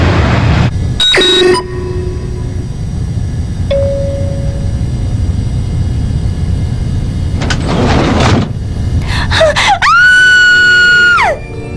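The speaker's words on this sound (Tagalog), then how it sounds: "Narinig kasi kitang sumigaw." A long, loud, piercing scream rises and holds near the end, preceded by sharp bangs and clattering noises over a steady background rumble.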